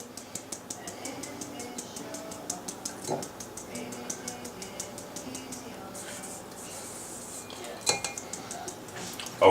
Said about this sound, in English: And then the cornstarch. Okay, we're going to sift that in.